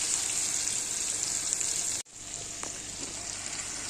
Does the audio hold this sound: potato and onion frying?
yes